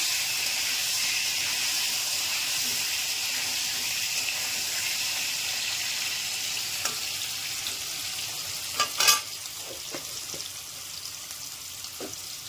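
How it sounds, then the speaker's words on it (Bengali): Potato pieces seasoned with salt and turmeric fry in a pan for a mixed vegetable dish. The hissing sizzle is steady and close, with a few brief louder spatters and stirring clatters near the end, and no voices. "আলু ভেজে নিলাম।"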